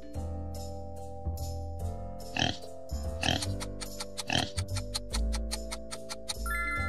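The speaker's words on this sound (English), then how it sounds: "A pig." A pig oinks and grunts in a few short, rough bursts over a soft backing of gentle music with a steady ticking beat, with no voices.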